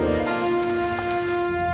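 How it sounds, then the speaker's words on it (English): Heavy rain pours down in a nighttime storm on a roadside, a steady dense hiss of falling water running beneath sustained musical tones for the whole stretch. "his windshield wipers waged a pitched battle with the unrelenting sheets of rain"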